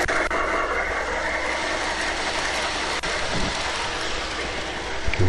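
A model train rolls along a two-part outdoor garden railroad, a steady rumbling clatter with light rhythmic clicking of wheels over track joints, continuous and fairly close, without any talk.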